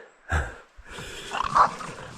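Dogs on a forest mountain walk give a short bark, then a yipping, whining run of barks nearby, fairly loud with no talk over them.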